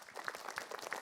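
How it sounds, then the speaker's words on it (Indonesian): Studio audience applause at a televised Islamic talk show, heard as a brief, fairly faint burst of dense clapping with no talking. "Tepuk tangan dulu buat Mas Indra."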